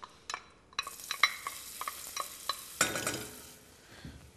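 Onions sizzle softly in a hot pan while a utensil scrapes and clicks repeatedly, stirring them; a louder burst of frying rises midway.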